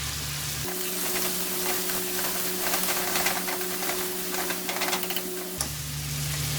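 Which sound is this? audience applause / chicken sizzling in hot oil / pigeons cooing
chicken sizzling in hot oil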